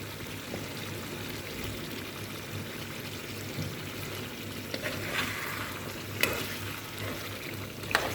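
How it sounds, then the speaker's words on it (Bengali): Tomato and potato drop into a pan of chicken curry sizzling in plenty of oil, giving a continuous close frying hiss with a few stirring scrapes and clanks. "এখন আমি টমেটোটা দিয়ে দিব আর আলু একসাথেই দিয়ে দিব।"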